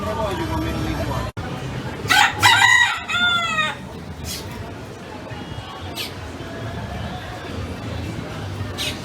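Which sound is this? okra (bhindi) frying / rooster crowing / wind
rooster crowing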